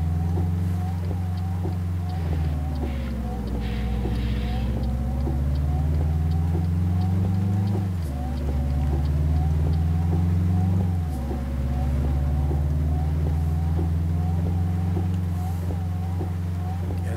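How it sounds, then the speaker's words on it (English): A Peterbilt 351 truck engine in Euro Truck Simulator 2 drones at a low, steady pitch that climbs gradually through the gears and drops twice at gear shifts, fairly quiet, with no talking. "It's definitely a much quieter engine sound than the other one."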